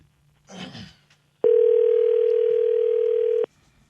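A telephone tone heard while a call is being dialed: a brief rustle, then a single steady, loud tone lasting about two seconds before it cuts off.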